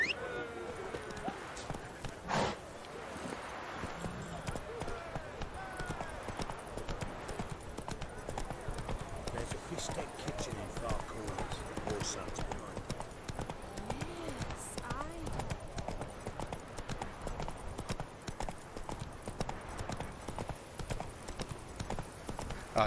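The horse Roach canters in The Witcher 3, a steady rhythmic clip-clop of hooves running on without a break under continuous game ambience.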